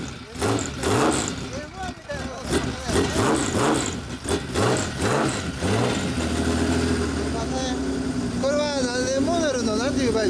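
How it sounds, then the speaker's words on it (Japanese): A tuned 2005 Honda CB1300 Super Four ABS with a Yamamoto Racing cowl and a megaphone-type muffler runs with a throaty, pulsing exhaust. It blips through several revs before settling into a steady idle, with voices nearby. "エンジン音聞かせてもらえますか？"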